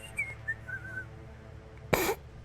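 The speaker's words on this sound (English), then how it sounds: "How can you whistle without lips?" A game character in Primordia whistles a short tune of several gliding notes, moderately quiet over a low hum, followed by a sudden loud burst like a cough or sneeze.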